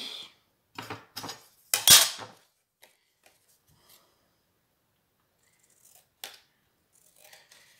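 Scissors snip through album paper in a few sharp close cuts, the loudest near the start, followed by near silence and faint handling sounds.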